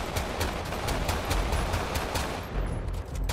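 Rapid bursts of video game gunfire in GTA roleplay crackle in a dense volley, many sharp shots in quick succession with a short lull near the end, steady and fairly loud.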